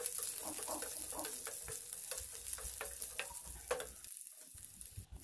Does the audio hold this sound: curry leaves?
yes